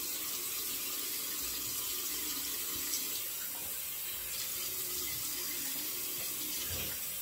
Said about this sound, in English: So we'll give it a rinse, we'll leave it at that.